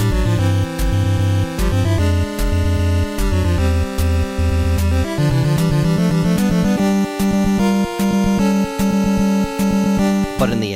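Metroid escape music from the Famicom Disk System version of the video game, a loud chiptune loop with a pulsing bass pattern, steady percussive ticks and tense synthesized melody lines, continuous and driving.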